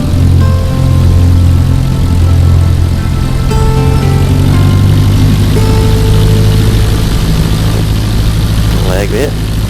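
A Pilatus propeller aircraft in a flight simulator taxiing, with a loud, steady engine drone and propeller hum holding throughout and a brief warbling tone near the end.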